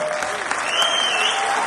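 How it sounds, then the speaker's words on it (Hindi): Audience applause at a shayari event, a short burst of crowd clapping, moderately loud and fairly even, with a faint tonal line running through the noise. "एक बार जोरदार तालियां ताकि जोश में आए"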